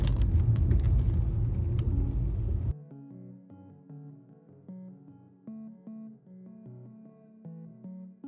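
A car drives along Masons Falls Road in Kinglake National Park in heavy rain and fog, a loud, low road-and-engine rumble lasting under three seconds before it gives way to music.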